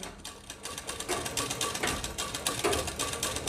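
Sewing machine running slowly over fabric while making a wavy stitch on a salwar poncho, a continuous close, even mechanical whirring chatter throughout.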